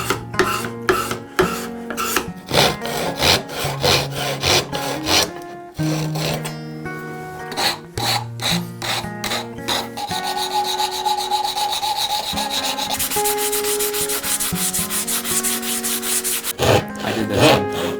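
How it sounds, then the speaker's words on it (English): A card scraper draws across a wooden wand in repeated short rasping strokes, close and steady, shifting later into a longer continuous scraping passage. "Now a card scraper."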